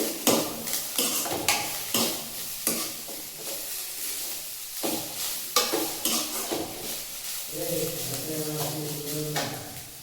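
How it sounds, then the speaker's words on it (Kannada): Coriander and curry leaves being stirred in a hot pan for village-style greens saaru, with repeated scraping spoon strokes and light sizzling in a steady rhythm. Near the end, a voice briefly speaks over it. "ಕೊತ್ತಂಬರಿ, ಆಮೇಲೆ ಒಂದು ಸ್ವಲ್ಪ ಕರಿ ಲೀವ್ಸ್ ಹಾಕ್ಕೊಂಡು ಮಿಕ್ಸ್ ಮಾಡ್ಕೊಳ್ಳಿ"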